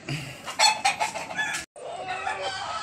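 Chickens clucking and squawking in rapid uneven bursts nearby, with a short gap before more excited calls.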